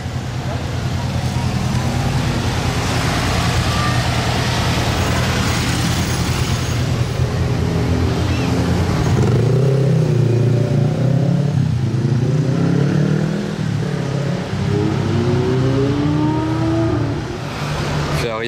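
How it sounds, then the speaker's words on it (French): A convoy of vintage Fiat 500 cars guided by motorcyclists rolls past at a car event, steady engine drone and revving close by, with someone talking over it throughout. "Alors là, si vous aimez les anciennes Fiat 500, vous êtes servis."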